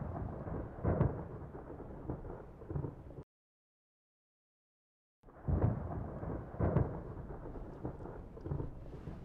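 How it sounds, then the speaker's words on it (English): Thunderstorm with low rumbling thunder and rain, faint and distant, broken by a short stretch of silence before it resumes. "Sounds like thunderstorms."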